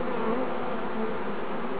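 A dense, continuous hum of many Macedonian honey bees buzzing close by in an open hive, steady and unbroken with no voices.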